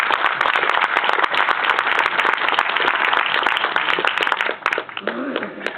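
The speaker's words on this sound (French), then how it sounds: "Applaudissez-le, il vaut vraiment la peine" A cinema audience applauding a friend at a screening in Charleroi, dense continuous clapping that stays loud and steady, then thins near the end as a voice comes through.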